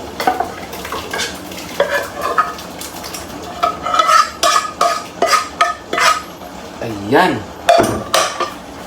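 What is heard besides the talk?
stirring mung beans in a pan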